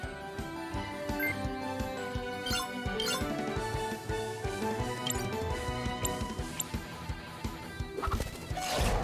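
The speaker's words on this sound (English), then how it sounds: "Was that a chicken?" A video game chicken clucks in short bursts over a busy, layered game music score in the RPG Cris Tales, the squawks sitting amid steady rhythmic beats.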